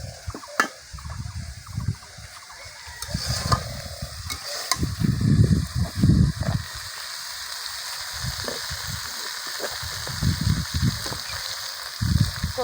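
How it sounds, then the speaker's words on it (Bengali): Soybean curry sautéed in a pan, loud close sizzling with repeated scraping and stirring strokes of a spatula, swelling and easing in irregular bursts. "এই যে আমি কষিয়ে নিচ্ছি।"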